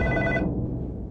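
A telephone bell rings in a short electronic burst, close and clear, then cuts off abruptly, leaving low background hum in a Saudi comedy TV series scene.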